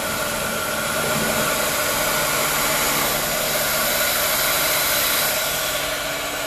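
Heat gun blowing hot air over a poured resin flower design, a steady loud whooshing roar with a faint motor whine that holds constant throughout, no talking.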